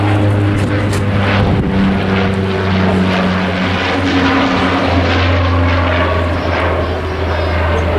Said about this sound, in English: There's another plane, and it's another Flybe plane.